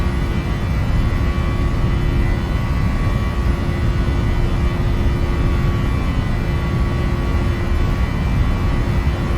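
A Boeing 737-800 at takeoff thrust in the Prepar3D flight simulator, producing a loud, steady, broadband engine roar with a constant tonal whine that runs without a break.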